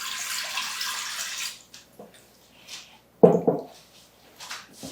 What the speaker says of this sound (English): Here we have 2 cups of cold water. So pour it into the inner pot.